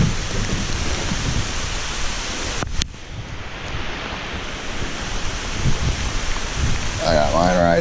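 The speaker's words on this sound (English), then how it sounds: "It's raining on us again." Rain falling during a storm on a riverside trip with a boat, a dense steady patter and hiss mixed with gusty wind, a brief dropout partway, and a voice-like wavering sound near the end.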